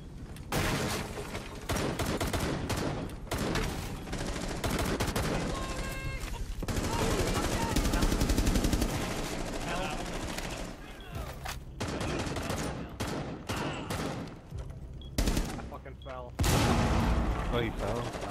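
Dense, loud bursts of gunfire from a Rainbow Six Siege multiplayer match, rapid automatic fire and sharp shots repeating almost continuously, with game voices mixed in.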